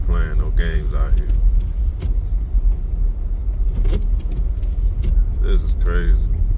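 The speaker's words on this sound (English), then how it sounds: "But this front wheel drive Camry is not playing no games out here." A 2012 Toyota Camry with front-wheel drive driving on snowy roads, its steady low engine and road rumble continuous beneath someone talking throughout.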